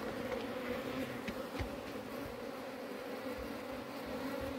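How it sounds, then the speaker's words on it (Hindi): Native honeybees carrying mustard pollen buzz continuously around the hive in cold weather, a dense, steady drone from many bees close by. "सरसों का पोलन लाते हुए मधुमक्खियाँ"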